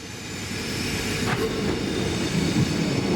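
A train rolls through a railway station with a loud, steady rumble of wheels on track, a brief squeal near the middle, and continuous clattering noise throughout.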